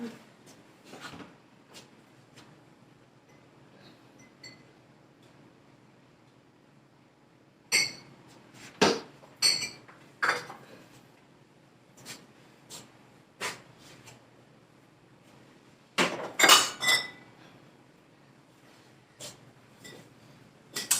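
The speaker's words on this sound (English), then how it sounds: "Now, I'm going to go get a glass to serve this in." Glassware clinks in a kitchen as a glass is fetched, sharp scattered chinks and knocks arriving in irregular bursts against a quiet background.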